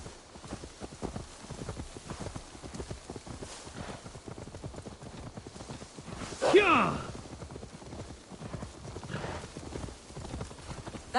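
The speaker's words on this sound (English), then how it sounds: "Now to deliver Magni his horse." Steady rhythmic clip-clop of horse hooves at a brisk pace in an Assassin's Creed video game, with a brief whinny partway through and voices talking faintly beneath.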